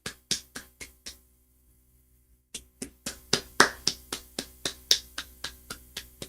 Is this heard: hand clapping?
yes